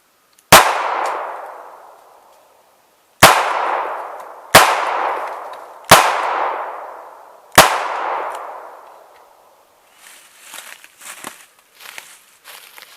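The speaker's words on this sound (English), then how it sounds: "I'm going to shoot all double action here." Five sharp, loud shots from a Smith & Wesson 637-2 Airweight J-frame revolver fired double action, spaced irregularly with ringing decay after each, followed by softer handling clatter.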